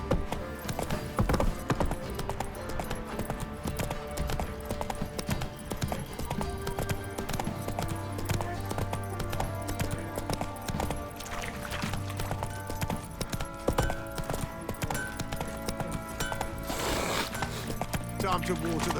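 Roach the horse gallops in The Witcher 3: Wild Hunt on PS5 with a fast, continuous clip-clop of hooves under game music and ambience, and a brief whinny. Characters speak over parts of it.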